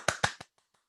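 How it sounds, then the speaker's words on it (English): One person clapping three quick sharp claps in a row, close and dry, each fainter than the last, with a few faint ticks afterward. "We don't have sound effects, so I'm just gonna clap."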